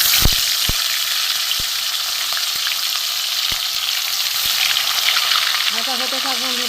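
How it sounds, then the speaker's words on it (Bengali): Tilapia fish fry in hot mustard oil with a steady, loud hissing sizzle, punctuated by scattered sharp pops and clicks, and a brief voice comes in near the end. "তেলটা দিয়ে আমি মাছ দুটো ভেজে নেব"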